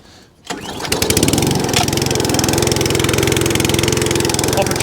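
An ATCO Balmoral 17 SE cylinder lawn mower's small petrol engine catches after a brief quiet start, then runs loud and steady close by with a fast, even putter.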